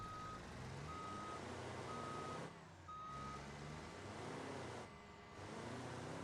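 A truck in the BeamNG driving game reverses with its backup alarm beeping steadily in a regular on-off rhythm over a constant engine rumble. The rumble dips briefly twice, and no one speaks.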